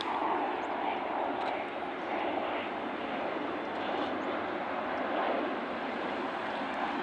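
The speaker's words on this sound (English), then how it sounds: "I was hoping to catch some airplanes for you" A fixed-wing aircraft passes near an air force base, its broad steady engine roar filling the whole stretch at fairly even loudness, with no talking.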